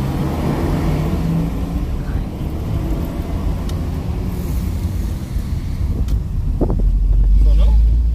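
A car engine revs inside the vehicle at night, a low rumble mixed with wind buffeting that swells into a louder, deeper surge toward the end, with voices faintly audible.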